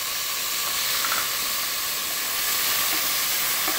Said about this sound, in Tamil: இப்போ தக்காளி பழம் போடுறேன்.